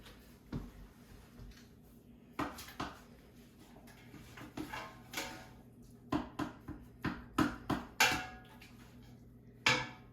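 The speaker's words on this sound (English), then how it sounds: "I'm going to give it a stir." A spoon stirs vegetable beef soup with diced tomatoes browning in a pot, giving a series of sharp metallic clanks and knocks against the pot in irregular bursts over a quiet background.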